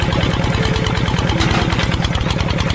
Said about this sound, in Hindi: पहले हम इंजन द्वारा खेत को पानी देंगे जिससे खेत में नमी हो जाए।